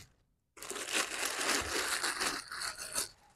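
Plastic protective bag crinkling and rustling as waxed cacao leather Thursday Hero boots are pulled out during an unboxing, a steady close crackle lasting about three seconds.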